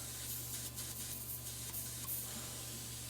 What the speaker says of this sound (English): Hook up the knackered Harbor Freight remnant hose. That leaks too.